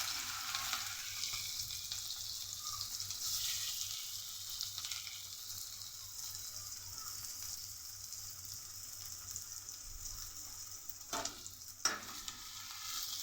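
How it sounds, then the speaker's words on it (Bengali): Chopped onions fry in hot oil with a dried red chilli, a steady close sizzle running the whole time, with a couple of louder spatters or stirs near the end. "পেঁয়াজটাকে ভালো করে লাল করে আগে ভেজে নেব।"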